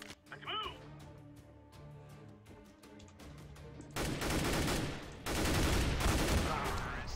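Grenade blast and rifle fire in a Counter-Strike: Global Offensive match, a sudden loud burst of gunfire and explosion noise erupting after a quieter stretch with a player talking over game sounds.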